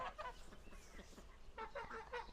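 Several geese on a farm honk and cackle in short bursts in the morning, a few calls overlapping, at moderate distance and fairly faint.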